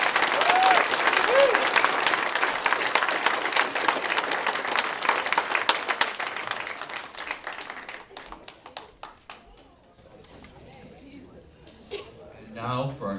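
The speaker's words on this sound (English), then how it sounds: "Can we have a round of applause for these guys?" An audience at a school commencement ceremony breaks into sustained applause, dense clapping from a crowd that thins into scattered claps, with a few light voices near the end.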